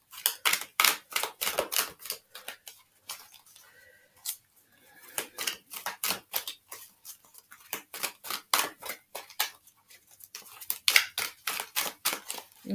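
Rapid bursts of crisp, papery riffling as tarot cards are shuffled, repeating in quick clusters, pausing briefly between rounds, close and fairly loud with no talking.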